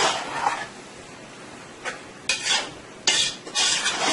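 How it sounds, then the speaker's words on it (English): Chicken sausage frying in a pan with sauce hisses steadily while a utensil stirs it in bursts of close scraping and clattering, with quieter sizzling between the strokes. "I am going to let this fry for about 2 to 3 minutes"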